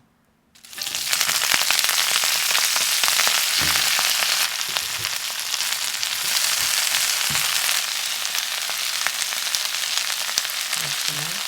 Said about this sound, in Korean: 흰배추와 흰양파를 볶았고